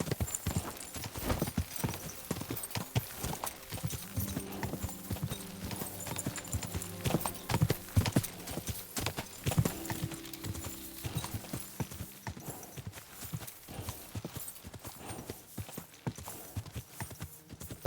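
Galloping horse hooves pound rapidly and continuously in Kingdom Come: Deliverance II, loud and close throughout, with a dense thudding rhythm and some faint tonal background layers.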